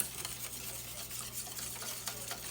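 Cornmeal stirred and whisked in a pot for crema de maiz, a soft, steady scraping swish close by, continuous and quiet with no talk.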